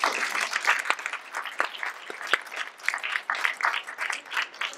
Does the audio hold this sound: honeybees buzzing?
no